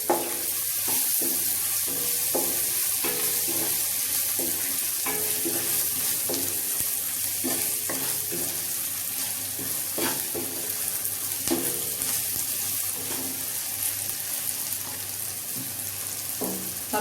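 Chopped green chillies fry in hot oil in a pan while being stirred, a steady dense sizzle throughout with occasional scraping stir strokes, close and fairly loud with no talking.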